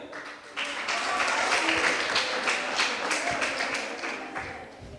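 An audience claps for children at a West Indies Cricket Board kiddy cricket camp: steady, moderately loud applause that swells after a quiet start and holds with a dense patter of hands.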